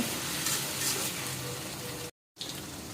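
Oil and garlic paste fry in a pot for khichuri, a steady, close broadband sizzle that continues evenly before cutting out briefly and then resuming.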